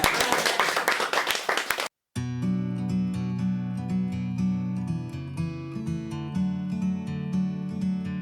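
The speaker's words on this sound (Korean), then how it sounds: "그렇게 말씀하시고 박수 한번." Warm applause and clapping from an audience at a Daejeon hyangje julpungnyu traditional music performance in a hyanggyo, loud and dense for about two seconds, then cut off and followed by sustained music.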